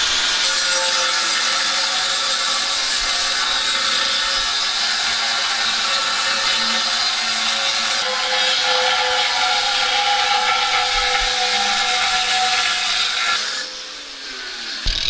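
An abrasive cutting disc grinds into an alloy wheel during a repair, producing a loud, steady, high-pitched screech that runs almost without a break before easing off near the end.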